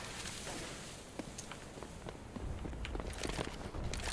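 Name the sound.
footsteps in tunnels in Counter-Strike video game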